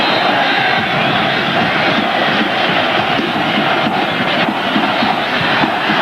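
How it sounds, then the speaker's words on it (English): Stadium crowd at a USA versus Guatemala World Cup qualifying soccer match, a loud, dense, continuous roar of thousands of voices with no single voice standing out, steady from start to finish. "You hear the din from the crowd."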